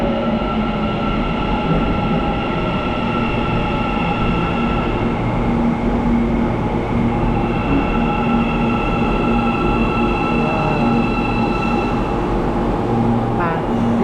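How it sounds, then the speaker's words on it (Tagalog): A metro train pulls into an underground station in Almaty with a loud, continuous rumble and hum. Wheels whine and rails click throughout, with a faint squeal near the end. "Okay guys, the train is coming."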